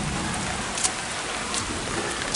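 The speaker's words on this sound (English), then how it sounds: "It's starting to pick up heavy rain again" Heavy rain pouring down outdoors, a dense continuous hiss with occasional louder spatters, steady and close with no talking.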